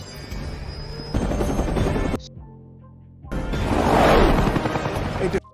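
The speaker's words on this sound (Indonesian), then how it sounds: "Helikopter mereka pun ditembak hingga jatuh dan meletus." A film helicopter attacked and shot down in G.I. Joe: loud rotor and engine roar with gunfire bursts and crashing, a brief drop to near quiet, then a swelling roar and explosive rumble.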